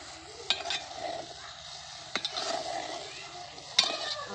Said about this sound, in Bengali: এখন তরকারিটা ভালোভাবে কষিয়ে নেব।